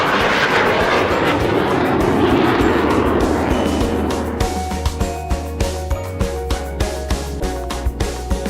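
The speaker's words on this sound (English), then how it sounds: "Lucy, those planes are called the Blue Angels." Blue Angels jets at an air show roar loudly overhead in a broad, sustained rush that fades over several seconds, then gives way to quieter rhythmic thumping from nearby.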